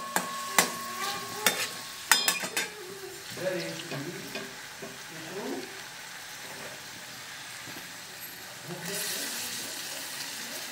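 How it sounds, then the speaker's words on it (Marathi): Finely chopped onion sautéing in a pan, stirred with a utensil that clinks and scrapes loudly at first, then settles into a soft, steady sizzle with intermittent stirring noises and a brief voice partway through. "आता कांदा हा एकदम असा बारीक होईपर्यंत, म्हणजे असं मऊ लुसलुशीत होईपर्यंत परतायचा आहे"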